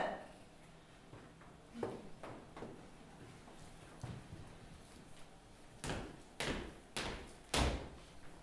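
Several door-like knocks and bangs ring out indoors at irregular intervals, a few soft thuds early on and louder, sharper impacts clustered toward the end, with no talking.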